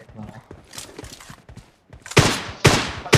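Gunfire from PUBG Lite comes as several sharp, loud shots, scattered lightly at first and then two heavy close blasts near the end, with a voice talking over the game sounds.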